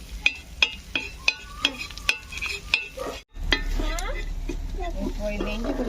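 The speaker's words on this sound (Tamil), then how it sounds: "இந்த சால்ட்டு, மிளகாத்தூள், இஞ்சி பூண்டு பேஸ்ட்டு இது மூணுமே இந்த எண்ணெயிலே நல்லா ட்ரை ஆகும்" Salt, chili powder and ginger-garlic paste frying in oil for a prawn tawa fry, a soft sizzle under sharp repeated scraping and clinking of a spoon on the pan, with a voice talking over it.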